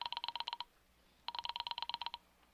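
An old-fashioned telephone bell rings in two rapid trilling bursts separated by a short pause, clear and fairly close in a quiet room, in a radio drama setting.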